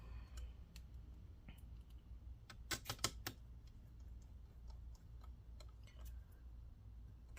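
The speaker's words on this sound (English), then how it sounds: "we'll get these 3 screws in." Small screws are driven into the keyboard palmrest of an Acer Predator Helios 300 laptop, heard as faint, close, scattered ticks and clicks, with a brief cluster of sharper snaps in the middle against quiet background.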